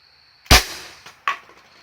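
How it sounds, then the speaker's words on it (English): A Daisy Powerline 415 CO2 BB pistol is fired at a Coke can, giving two sharp, close cracks about three-quarters of a second apart, the second one softer. "So we're going to put some shots into this Coke can."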